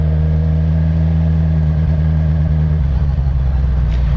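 A Suzuki GSX-R 750 motorcycle cruising at an easy pace around a parking lot, its engine a steady close-up drone that shifts pitch partway through, with no talking.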